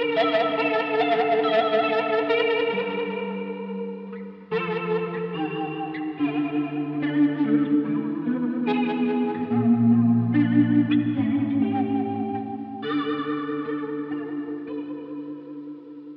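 Electric guitar played through a Walrus Polychrome flanger pedal, sustained chords and arpeggios swirling with a sweeping, metallic jet-like modulation and lush chorus-style shimmer, loud and continuous for the whole passage with no voices.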